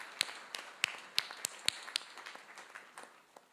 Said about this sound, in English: I give a big round of applause for the panelists as well